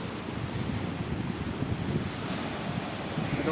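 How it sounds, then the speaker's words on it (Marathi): Sea waves surge and crash on the shore at a fishing village during rough seas, a continuous loud roar of surf with steady wind noise buffeting the microphone. "इथे लाट बघा कसं उडलं जातं पाणी"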